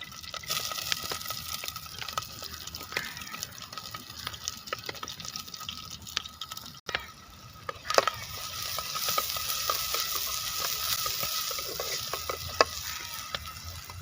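Onion frying in a couple of tablespoons of coconut oil for goat leg soup, a steady soft sizzle with light stirring scrapes running throughout, close and even, with no talking.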